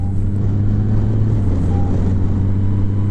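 Motorcycle engine running at a steady low rumble with strong harmonic drone, close and continuous, while riding slowly through town on a hot day, the throttle held fairly even throughout.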